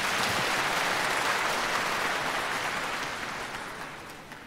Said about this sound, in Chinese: 让我们掌声有请中国音乐学院党委吴武副书记代表学院致辞